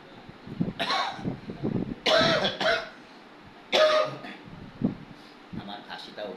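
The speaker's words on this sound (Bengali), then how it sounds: "আমার কাশিটা অতিরিক্ত" A person coughs in several harsh, close bursts that come in quick clusters separated by short pauses, with throat clearing mixed in.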